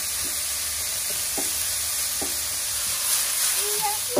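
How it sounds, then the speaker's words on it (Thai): Pork stir-frying in a hot wok for Thai basil stir-fry gives a steady close sizzle, with a few light clinks of a spatula. No one speaks. "ปัดหมูให้สุกก่อนนะครับเพราะว่าถ้าไม่สุกแล้วมันจะมีกลิ่นคาว"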